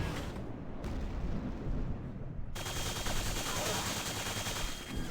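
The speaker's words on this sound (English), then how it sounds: "It's basically a laser chain gun" Rapid, sustained bursts from a laser chain gun in a Quake-style first-person shooter, dense and loud throughout with a sharper, brighter layer joining midway. A voice talks over part of the firing.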